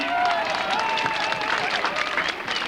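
A crowd applauds at a mi-carême carnival parade in Coëx: dense outdoor clapping holds steady throughout, with voices and a few faint tonal sounds mixed in.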